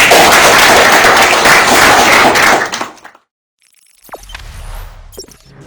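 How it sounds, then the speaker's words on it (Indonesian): An audience welcoming a South Sumatra fencing team back from PON XX Papua 2021 bursts into loud, dense applause for nearly three seconds before it cuts off abruptly into silence, followed by faint thumps and clatter. "Tepuk tangan meningkat."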